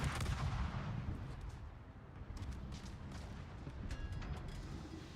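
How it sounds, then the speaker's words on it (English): Naval warship guns fire in a video game, with heavy booming salvos over a dense, continuous rumble of battle that stays loud and steady for several seconds. "All stations, concentrate fire on the target."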